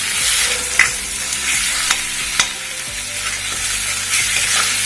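Banana flower frying in oil with turmeric and salt, stirred in a pan; loud, close, steady sizzle with repeated scraping strokes and occasional sharp clinks of the spoon.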